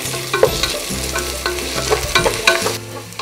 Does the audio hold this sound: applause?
no